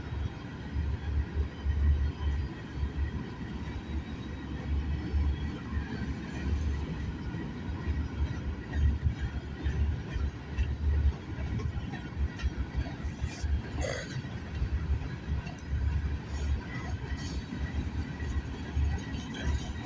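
A CN freight train passing on the York Subdivision near Milepost 23, with a rear-end DPU, a steady rumbling roll of wheels and cars sustained throughout, with a brief higher squeal or horn-like tone partway through.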